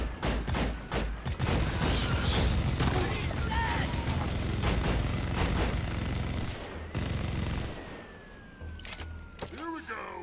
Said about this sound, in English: Maybe I shouldn't be wasting my shotgun like this